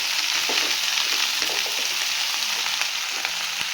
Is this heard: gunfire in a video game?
no